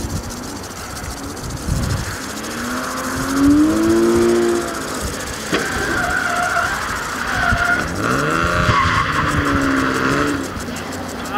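A drift car at a Drift Challenge event at Lang-Lebring in Austria spins out, with loud engine revving and swooping tire squeal near the track, under a commentator's excited talk.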